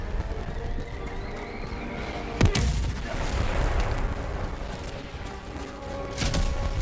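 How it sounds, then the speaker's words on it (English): Enemy artillery fire in Helldivers 2: a sharp, loud impact around midway stands out over a continuous rumbling battlefield din, with further distant shelling fading in and out. "Warning, you are in range of enemy artillery"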